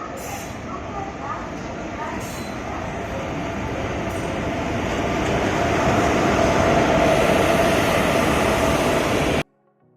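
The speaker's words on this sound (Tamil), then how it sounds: "ட்ரெயின் வந்துடுச்சு" A train pulls into a station platform, its rumbling, rail-car noise swelling steadily louder over about nine seconds before cutting off abruptly, with people's voices mixed into the busy platform din.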